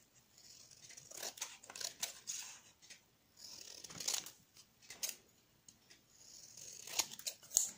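Scissors snip paper while a square is cut out for a handmade card, a series of quiet, close crisp cuts in irregular bursts with short pauses between them and no speech.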